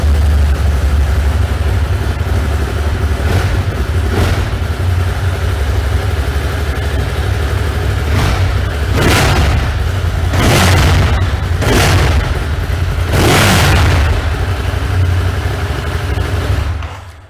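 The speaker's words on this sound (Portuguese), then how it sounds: "Tá aí o barulho característico da Ducati. Barulho forte, potente." A 2020 Ducati Monster 1200 S motorcycle engine running loud and close, a deep steady idle punctuated by several sharp throttle blips and revs, with no talking.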